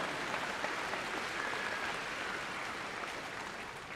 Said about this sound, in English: Y'all just clap.